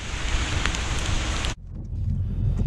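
Steady rain pours down in a dense, even hiss that cuts off abruptly partway through, leaving a quieter, muffled patter with no talking.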